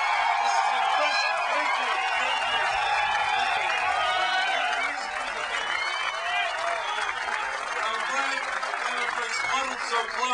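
A large outdoor political rally crowd on Boston Common cheers and applauds loudly and continuously, a dense roar of clapping and shouts that dips slightly midway.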